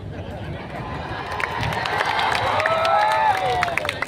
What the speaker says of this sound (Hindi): मतलब मैं ताली बजा रहा हूं